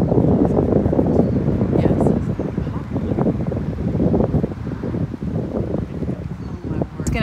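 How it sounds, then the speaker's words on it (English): Wind picking up outdoors at a scenic spot, a continuous low blustery rumble of microphone buffeting that stays loud throughout, with voices talking faintly underneath. "the wind's picking up"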